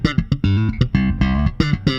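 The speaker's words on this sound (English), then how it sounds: "Now here's another Fender Jazz strung with new DR high beam standard gauge strings." Slap bass on a Fender Jazz with new DR High Beam standard gauge roundwound strings, with snappy thumb and popped notes in a short funky phrase, bright and punchy with a zingy top end, close and loud, no voices.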